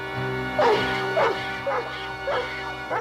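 A dog in a Smurfs video game barks in a series of four or five loud, evenly spaced yelping barks over a low steady background of game music.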